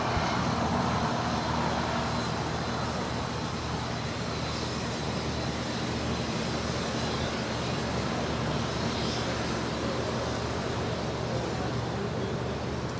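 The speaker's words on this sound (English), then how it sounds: "It's a 777 getting ready for a departure here on the 25s." A Boeing 777 at LAX readies for departure on the 25 runways, heard as a steady, broad engine roar from a distance that holds constant throughout without pauses, with no speech.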